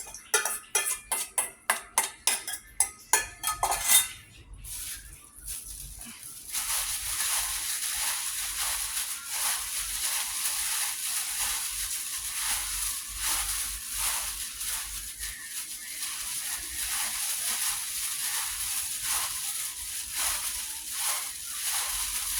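Vegetables tossed into a Thai beef skin salad in a bowl: a few sharp clatters and scrapes at the start, then a steady wet mixing hiss and sloshing that carries on close and fairly loud.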